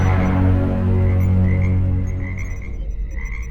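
A frog sound effect for a sci-fi comedy radio drama: a deep, continuous throaty croak with a steady buzzing rattle, loud and close, thinning out toward the end with no voices over it.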